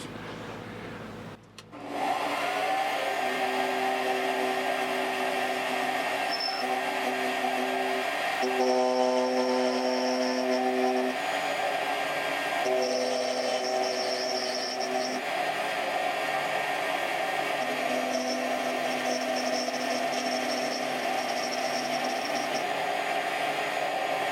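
A lathe cuts a deep relief channel into a wooden puzzle piece, a steady close whirring hum with shifting tonal whine as the tool plunges, running continuously and alone without talk.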